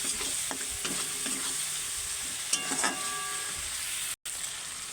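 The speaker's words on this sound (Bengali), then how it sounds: "এবার মশলাটা ভালো করে একসাথে ভালো করে কষিয়ে নেব।" Spice masala with chili powder being stir-fried in a pan for chicken fry, a steady close sizzle broken by repeated scraping stirs, with a brief dropout near the end.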